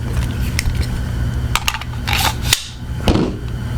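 A 9mm magazine is handled and pushed into a Mac-10, giving several sharp metallic clicks and clacks up close, with one firmer snap partway through.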